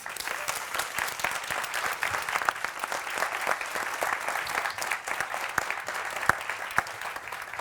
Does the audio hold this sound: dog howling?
no